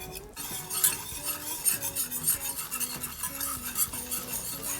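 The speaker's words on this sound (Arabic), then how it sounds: "هسه بدنا نحط الطحين، بدنا نحرك تنو يجمد" Flour is stirred into a pan for a white sauce, making a steady, close rasping scrape as the spoon works the mixture in continuous rhythmic strokes, with a light sizzle underneath.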